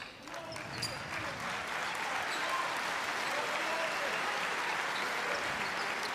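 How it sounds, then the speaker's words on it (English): Spectators applaud at a FIBA World Cup 2023 qualifier basketball game between Iceland and Spain as a player leaves the court, a steady wash of clapping from the arena crowd filling the whole stretch, with a commentator's voice faintly beneath. "Applauds as Bjornsson goes out."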